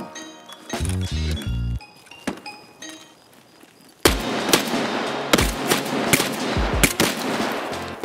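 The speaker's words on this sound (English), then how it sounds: "I shot him twice and he didn't die." Gunfire in the shooter Escape from Tarkov: a short burst of shots, a pause with scattered single cracks, then a loud sustained stretch of repeated shots and impacts, close and sharp.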